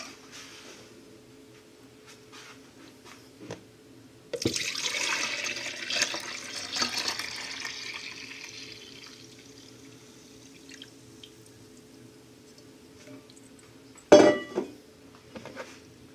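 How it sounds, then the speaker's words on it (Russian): Warm milk at about 40 degrees poured into a yogurt maker, a soft continuous splashing and trickling stream for several seconds, with clinks of a container before and a sharp clatter near the end. "Теперь молоко выливаем в йогуртницу."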